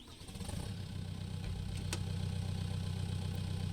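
A tractor engine in the farming game Pure Farming 2018 starts up and settles into a steady, low idling rumble, loud and close throughout with no talking over it.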